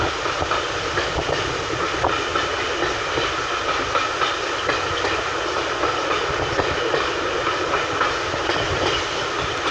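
Steady rumble and rhythmic clatter from onboard a coach pulled by steam locomotive 62 between Dereham and Hoe, continuous and loud with faint wheel clicks throughout and no talk.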